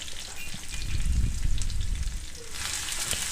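Curry leaves, four thinly sliced small shallots and garlic frying in hot oil for a toddy-shop style tuna curry, a crackling sizzle that swells in the middle and continues steadily, close by and with no talk.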